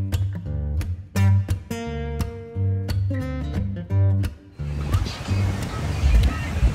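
Strong ocean waves breaking and washing in on Calangute beach in Goa around sunset, surf surging loudly in the latter part after a stretch of other rhythmic sounds.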